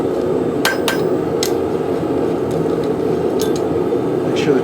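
A hammer flattens a hand-forged woodcraft carving tool, with a few sharp metallic strikes spaced irregularly over a steady background hiss.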